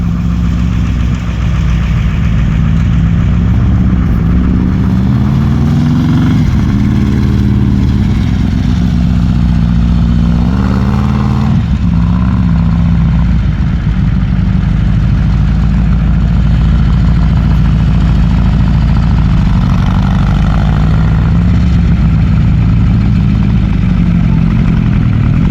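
A Dodge diesel semi truck engine drones loud and steady throughout, its pitch rising and falling slightly as the throttle works while the wheels spin in a rut, with no talking.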